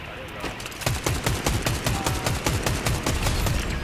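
Gunfire in a Fortnite match, rapid rhythmic bursts of shots repeating steadily throughout, loud and mixed with game sound and a player's voice.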